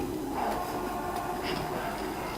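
A subway train pulls into an underground station in Resident Evil 6, a steady rumbling hum with faint metallic squeals that holds at an even level from start to finish.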